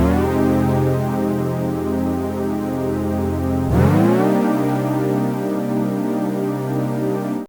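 Warm synth chord pad from Serum through an MG low pass 12 dB filter, a sustained smooth chord that shifts to a new chord midway, loud and steady before cutting off.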